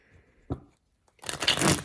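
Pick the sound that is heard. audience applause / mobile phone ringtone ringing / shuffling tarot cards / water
shuffling tarot cards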